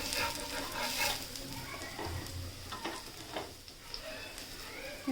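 Masala bread toast fries in oil on a pan, giving a continuous soft sizzle with occasional scraping and handling noises close by.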